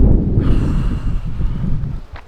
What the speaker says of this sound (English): it's super windy once we started building this